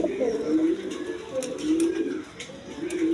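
Pigeons of various breeds cluster together, cooing in repeated low, throaty phrases at close range, a few faint sharp sounds in the background.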